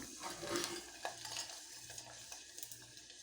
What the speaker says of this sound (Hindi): मैं इसमें 2 जवे लहसुन के डाल रही हूँ और ये 4 साबुत काली लाल मिर्चें मेरे पास भी तेज़ वाली हैं, ये डाल दूँगी